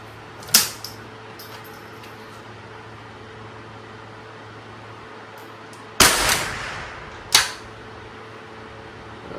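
Rimfire rifle shots from a Springfield 2020 fired at cans and jars outdoors: three sharp, loud cracks spaced seconds apart, each with a short decaying tail over faint background hiss and hum.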